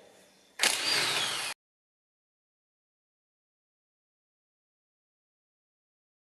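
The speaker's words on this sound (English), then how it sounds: "Now off with the 4 end nuts. This is a 9/16 socket." A 9/16 socket spins off the rear axle end nuts of a Volvo Amazon during a wheel bearing change. One loud, dense mechanical burst lasts about a second, then silence follows.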